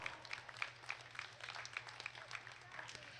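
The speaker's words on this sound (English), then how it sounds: "give all of our ram exhibitors a big round of applause" A county fair sheep show crowd applauds the ram exhibitors, light, scattered clapping with sharp claps at an irregular pace, faint over a low steady hum in a large hall.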